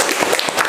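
A short burst of applause from a seated group at a school coaching session, dense overlapping hand claps, loud and close.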